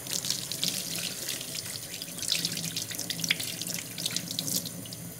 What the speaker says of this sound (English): I'm just going to rinse it in cold water until there's no more soapy residue left.